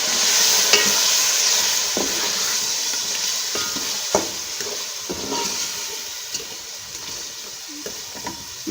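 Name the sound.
ground spices being stirred and fried in a pan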